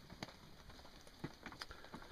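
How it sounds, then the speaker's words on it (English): Light snow and freezing rain come down outdoors at a camp, giving faint, scattered ticks and patters on surfaces over a quiet background, with a few sharper taps. "some light snow and freezing rain coming down."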